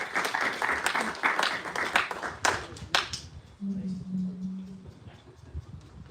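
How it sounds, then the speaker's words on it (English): Supporters of Salisbury FC clap in a small crowd, a dense, moderately close patter of applause that fades out after about three seconds, followed by a voice and quieter background. "Everybody give him a big round of applause."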